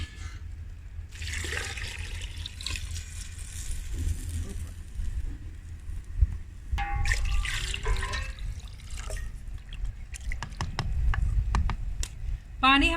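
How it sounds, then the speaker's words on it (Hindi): About 3.5 litres of water poured into a pot of lentils for chicken haleem, splashing and trickling in uneven bursts with quieter gaps between, close by and moderately loud. "पानी हमने शामिल कर दिया है"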